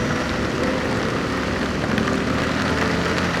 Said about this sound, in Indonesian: Hujannya ini kenceng.